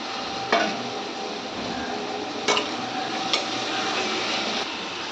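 Onions and tomatoes sizzle in a pan while being stirred for a squid pepper fry masala, a soft steady frying hiss with a few sharp scraping clicks from the spoon.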